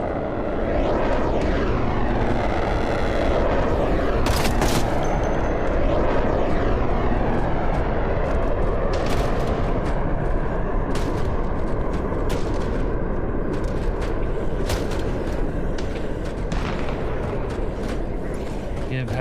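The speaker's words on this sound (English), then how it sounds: "Air Force is gonna try to strafe me." An Air Force plane in the zombie survival game Project Zomboid roars loudly overhead while gunfire bursts crackle through the dense engine noise across the whole stretch.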